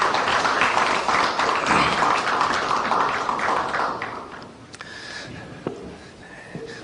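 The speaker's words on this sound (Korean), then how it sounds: "격려의 박수 하겠습니다." A congregation at a Hanyang University chapel service applauds the choir and orchestra. The dense clapping thins and fades by about four seconds, leaving a few scattered taps and claps in a quieter room.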